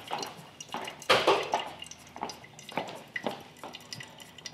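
Water drips and trickles through a wetted paper coffee filter in a home coffee setup, quiet irregular drops and splashes with a few louder spatters close by, no talking.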